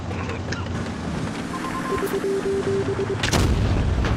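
T57 Heavy tank cannon in a video game firing a heavy boom near the end, with reload clicks and game beeps before it and a softer earlier report.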